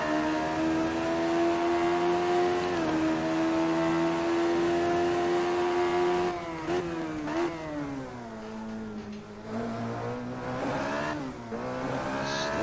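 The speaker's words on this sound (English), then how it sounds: "Lighting up them back tyres again, too early and too much power" Radical SR3 race car on track at Imola, its engine revving hard and loud as the rear tyres spin under too much power, pitch climbing and dipping through the run with no talk over it.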